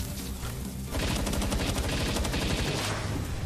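Video game gunfire from a battle against bosses named Axel and Orserk, a soft lead-in giving way to sustained rapid automatic bursts, loud and close with no talk over it.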